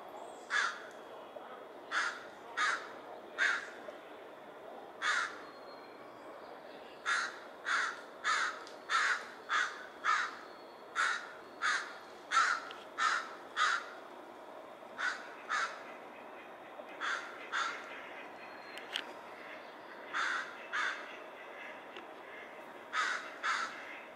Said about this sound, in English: being dive bombed by crows